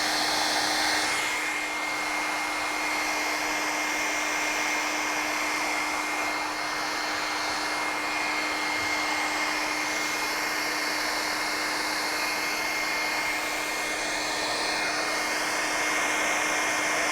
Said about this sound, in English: that I use a lot in sculpting is a hairdryer